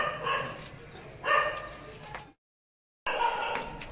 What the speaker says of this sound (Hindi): और कुत्ते भौंक रहे हैं हमारे,